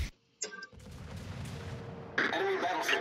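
Warship guns firing in the naval game World of Warships, deep booming shots with rumbling tails, a short silence and then a louder volley near the end.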